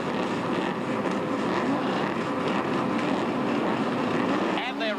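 Field of 1987 NSW Series sports sedans, including a Castrol Mazda RX-7, roaring away from the start at Oran Park Raceway in Sydney, a dense steady engine drone throughout with a commentator talking over it.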